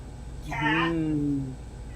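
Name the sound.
cat meowing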